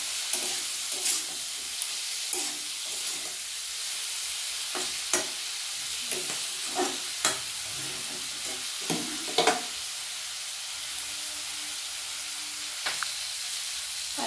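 Onion greens with turmeric, along with potatoes, sauté in a pan with a soft continuous sizzle, punctuated by sharp intermittent scrapes and clanks of a spatula stirring.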